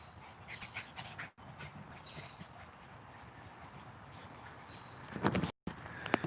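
Dog panting after being dunked in water, with quick breaths heard close by, some splashes and shuffling movement, and a louder burst of activity near the end.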